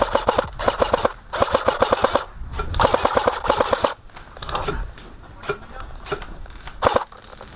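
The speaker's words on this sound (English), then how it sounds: "I'm laying down covering fire so my teammates could rush the barn." Airsoft rifle laying down rapid covering fire outdoors during an airsoft game at a barn, heard as several loud bursts of fast, evenly spaced shots with short pauses, later giving way to scattered single shots and softer movement noise.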